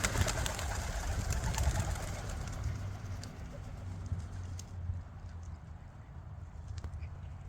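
Pigeons coo and flutter nearby while feeding, over a steady outdoor hum, with scattered pecking taps and faint bird calls throughout.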